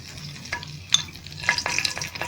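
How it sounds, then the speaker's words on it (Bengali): Bay leaves sizzle in hot oil in a wok for a fish curry, a faint, steady frying hiss broken by a few soft stirring scrapes and clinks, with no voices. "তেজপাতা দিলাম"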